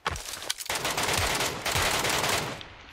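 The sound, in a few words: gunfire in the video game PUBG Lite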